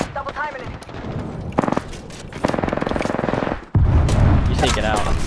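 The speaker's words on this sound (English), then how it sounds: "I'm getting shot back by the other team." Rapid automatic gunfire from an online team shooter game, loud bursts of rattling shots and booms with heavy sound effects throughout, while a player talks over it.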